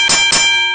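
Two ringing metallic clangs of a buoy bell, struck in quick succession, with a sustained tonal hum that lingers and slowly fades.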